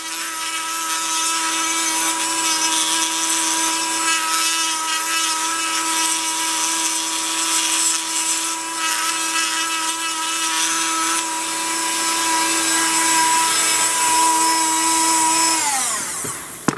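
A high-pitched power tool grinding metal on a stator plate whines steadily and loudly for a long stretch, grinding continuously, then winds down near the end.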